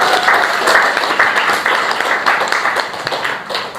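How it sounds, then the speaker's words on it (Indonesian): Classroom applause from students after a presentation, a loud, close burst of many hands clapping that runs steadily for several seconds and tapers slightly at the end. "Dari tepuk tangan buat Malik."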